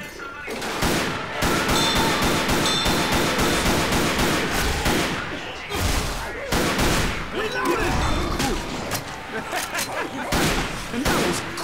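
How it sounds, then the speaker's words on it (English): Dense gunfire in the video game Left 4 Dead rattles almost nonstop, rapid automatic bursts and overlapping shots close by, with voices calling out in the background amid the shooting. "What were you shooting?"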